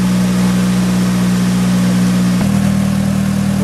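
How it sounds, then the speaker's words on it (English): A Nissan S15 SR20DET engine idles steadily after an oil flush, a loud, even, close hum that drops to a slightly lower tone partway through. "Let it idle for a while. Let the oil get everywhere that it needs to go."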